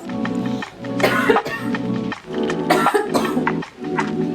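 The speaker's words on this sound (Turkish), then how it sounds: "Oha bu nasıl bir öksürük?" A person coughs hard in a series of loud, close, harsh bursts, with short pauses between the fits and no talking over them.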